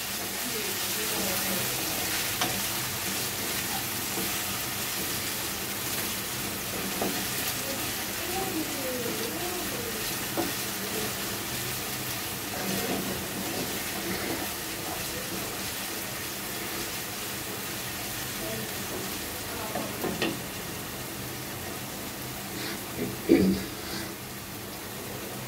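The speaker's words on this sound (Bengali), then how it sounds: "তো মশলাটা আমি একটু ভালো করে কষিয়ে নিব।" A spice paste with garlic paste stir-fries in a pan, giving a continuous hissing sizzle with occasional scraping clinks, while a voice talks intermittently over it.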